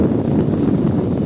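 Strong wind roars steadily across the microphone with a dense low rumble, likely mixed with crashing waves, continuous and loud throughout with no talking.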